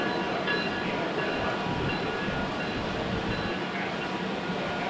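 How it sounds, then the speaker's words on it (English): A South Shore Line passenger train of bi-level electric multiple units rumbles past at close range, a steady loud roll of wheels and car noise that holds throughout without talk. "The train is operating with Nick-Tite-owned bi-level EMUs"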